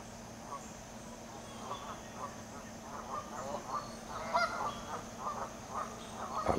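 Canada geese at a zoo give a run of repeated honks at moderate distance, rising and falling over a steady outdoor background with soft murmuring.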